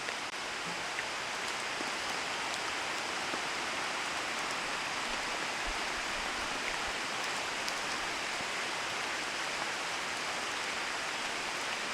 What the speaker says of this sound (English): But the rain hit a bit too hard,